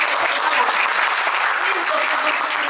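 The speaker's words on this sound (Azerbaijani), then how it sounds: "Alqışlayalım." An audience at a school memorial gathering claps steadily, a dense continuous round of applause heard close and loud without talk.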